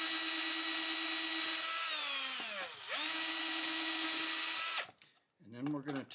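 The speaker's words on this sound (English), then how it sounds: "Drill some pilot holes." A power drill whines steadily while boring pilot holes for a T-nut in a wooden guitar neck pulling jig. The motor pitch sags briefly under load, recovers, then cuts off abruptly, followed by a short burst of talking.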